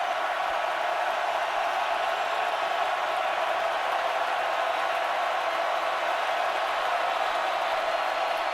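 Steady roar of a Clemson football stadium crowd during a 2013 home game against Florida State, a dense, continuous wash of massed voices at constant loudness with no distinct individual cheers standing out.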